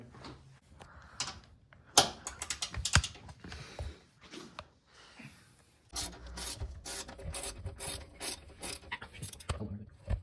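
Hand ratchet loosening 12 mm bolts underneath a 2021 Mazda Miata during an oil change, heard as bursts of rapid clicking close by, separated by pauses and clanks of tools.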